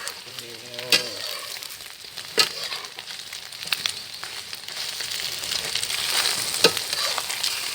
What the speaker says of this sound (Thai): ไข่เจียวง่าย ๆกันค่ะ